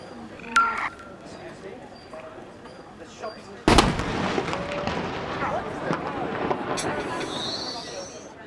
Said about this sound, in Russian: большие пушечные выстрелы из маленького-прималенького княжества.